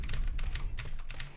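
Rapid typing on a computer keyboard used for gaming in CS2, with dense overlapping key clicks in quick irregular bursts at close range, steady and fairly loud, with no voices.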